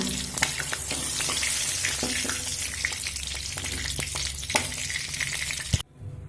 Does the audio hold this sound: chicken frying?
yes